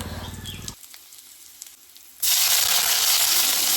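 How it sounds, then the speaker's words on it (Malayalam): Dried red chillies and curry leaves dropped into hot oil after mustard seeds pop, giving a loud, steady sizzle that jumps up sharply partway through after quieter stirring, with no talking. "കടുക് പൊട്ടി കഴിയുമ്പോൾ അതിലേക്ക് ഒരു മൂന്ന് വറ്റലുമുളകും ഒരു തണ്ട് കറിവേപ്പിലയും കൂടി ഇട്ട് മൂപ്പിച്ചെടുക്കാം"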